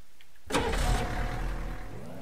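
A pickup truck in the Ranch Simulator video game cranks and fires up, then settles into a steady, loud, close engine rumble that holds without break.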